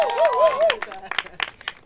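Audience applause at a live French stage event, a burst of scattered claps rising among the crowd while an amplified voice with pitch-bending tones carries over the start.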